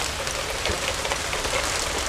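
Steady rain falls outdoors over a garden of bonsai trees in summer, a dense continuous patter of drops striking surfaces close by, with no voices.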